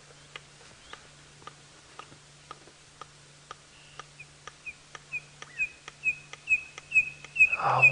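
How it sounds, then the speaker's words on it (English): A red-crested korhaan calls on a sunset safari drive, a long series of sharp ticking clicks that speed up and grow louder, ending in rising whistled notes, with a low steady hum beneath. "it is a red-crested Korhaan, and that call just confirmed it"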